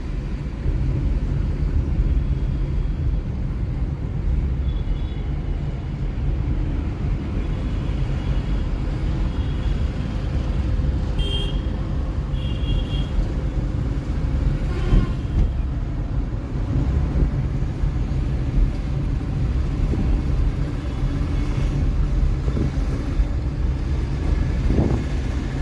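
A car engine hums low and steady while a learner drives and turns slowly at U-turn practice. The sound stays constant and fairly close, with light road and wind noise and no talking.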